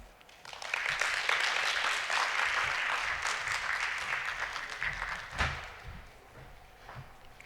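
Conference audience applauding after a university presentation: clapping swells quickly, stays full for several seconds, then thins into scattered claps and a few thumps before fading.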